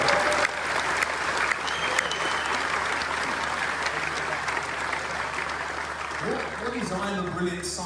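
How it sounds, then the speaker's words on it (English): A festival crowd applauds with dense, steady clapping that carries on throughout, and a voice begins speaking near the end. "round of applause, please, for Tom and Helen doing the signing."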